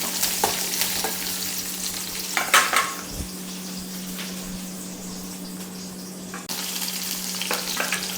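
Onions and green chilies sizzling in a pan while being stirred, with a steady frying hiss, occasional spoon scrapes and clinks against the pan, close by.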